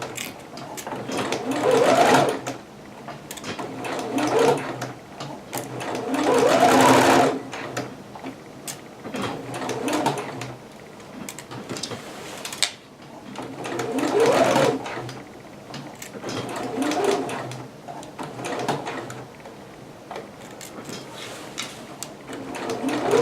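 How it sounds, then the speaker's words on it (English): A home sewing machine runs a long basting stitch along a 5/8-inch seam on a McCall's M6701 dress, in several bursts of steady whirring with short pauses between them. "I'm going to switch this back to a basting stitch so that I can fit it more easily"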